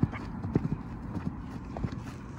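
Hooves of a two-year-old horse brought from Poland clip-clop at an even walk as it is led, several close, distinct footfalls over faint background noise.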